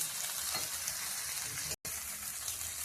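Masala spice paste frying in a pan for an egg malai curry, a dense continuous hiss of frying with a brief dropout, no talking.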